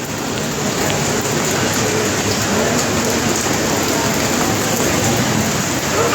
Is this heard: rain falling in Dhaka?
yes